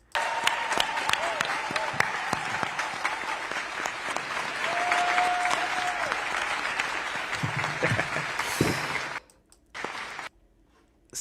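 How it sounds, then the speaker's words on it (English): Applause and cheering from a large crowd at a rally, replayed within a livestream, with dense sustained clapping and scattered voices over several seconds before it breaks off into near silence. "Greta Thunberg says blah, blah, blah, and the people cheer."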